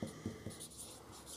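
Pen or pencil writing out a math problem on paper, quick close scratchy strokes with a few firmer taps at the start, then lighter continuous scribbling, quiet and alone.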